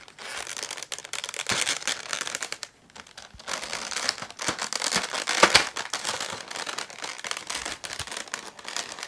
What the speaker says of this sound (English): lots of crinkling and noises and such